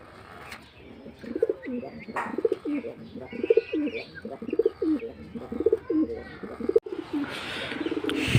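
A sick pigeon, breathing through its beak, coos in a steady, repeated rhythm, each call low and throaty with a rough, strained wheezing edge, close by; a few faint chirps sit in the background.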